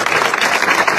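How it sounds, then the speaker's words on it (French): Audience applause at a conference with Miss France candidates, a steady burst of dense clapping filling the room for about a second. "applaudissez vraiment toutes les personnes autour de l'organisation"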